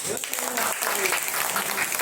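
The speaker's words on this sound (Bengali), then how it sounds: "জোরে হাততালি হবে" A group of first-grade children claps loudly in a sustained, dense burst of applause, with voices heard talking over it.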